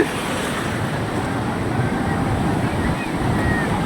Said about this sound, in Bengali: বেশ ভালোই ঢেউ হচ্ছে দেখুন